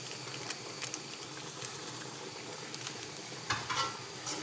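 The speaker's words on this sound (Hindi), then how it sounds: "इसमें हम कड़ी के पत्ते ऐड कर रहे हैं, इससे खुशबू आती है बिरयानी में।" Curry leaves and leftover fish masala fry in biryani masala in a pan. A steady sizzle with light stirring scrapes continues throughout, with no talking.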